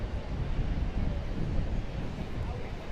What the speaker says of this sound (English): a cool wind, but a brisk wind out of the southwest.